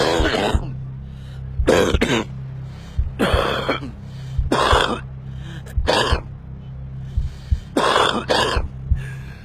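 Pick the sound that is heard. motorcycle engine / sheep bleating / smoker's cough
smoker's cough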